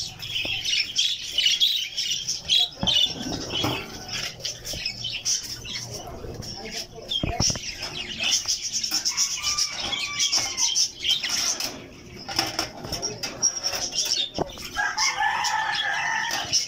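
Budgerigars squawk and chatter constantly in a backyard breeding cage, bright shrill calls overlapping with bursts of wing flapping and sharp cage knocks, loud and close throughout.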